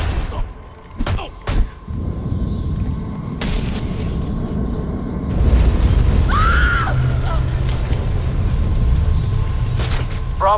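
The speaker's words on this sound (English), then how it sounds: "Source of explosion was an oil truck on the bridge surface." An oil truck explodes on a bridge surface in Batman: Arkham Origins: a few sharp booming blasts, then a loud, sustained broadband rumble of fire and debris that fills the rest of the scene.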